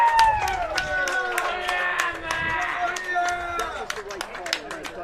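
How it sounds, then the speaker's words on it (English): A crowd roars and claps after a goal at a San Jose vs UC Davis WCLL lacrosse championship game, a loud sustained cheer with whistles, while a commentator talks over it. "Pinedo puts it home, and the crowd goes wild."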